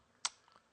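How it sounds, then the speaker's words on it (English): A single sharp mouse click near 0.25 s, followed by a couple of faint, softer clicks, on a desktop computer while installing to a hard drive; quiet and close, with no talking. "just double click on it"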